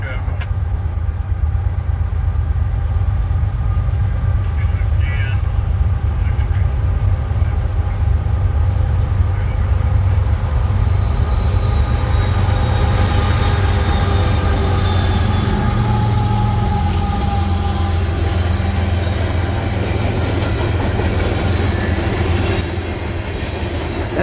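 A CSX manifest freight train hauled by ES44AH locomotives rolls past on the former New York Central line in New York state, a loud continuous roar of wheels and rail with rising metallic squeal toward the end.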